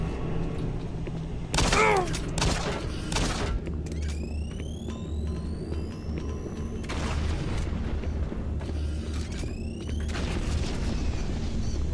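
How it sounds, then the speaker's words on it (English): Explosions boom in Doom 3 gameplay, heavy low blasts with a sharp burst near the start and more rumbling detonations later, over in-game ambience. "Did that detonate when it hit him?"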